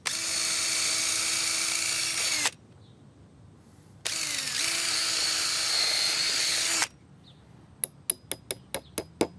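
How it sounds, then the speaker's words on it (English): A power drill boring a 7mm hole through timber for a coach screw in a garden border build, two sustained high whining bursts of a couple of seconds each with a pause between, then a quick series of sharp taps. "the hole that we want to drill through the bottom is 7mm"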